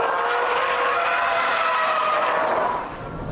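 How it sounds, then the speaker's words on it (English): A 2008 Subaru Impreza STI accelerates hard as its turbo comes on, with a loud, sustained engine roar and whine that holds steady before easing off near the end. "all of a sudden, your turbo's kicking in, the torque is maximised, and you've finally got the engine performance you're expecting"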